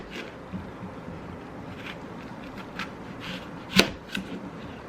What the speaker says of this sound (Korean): 그래서 썰어 먹어보도록 하겠습니다.